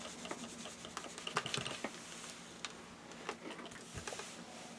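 A dry iron pressed onto fabric laid over a magazine and slowly rubbed across it: soft, close scraping and rubbing strokes with occasional light knocks, quiet and steady throughout.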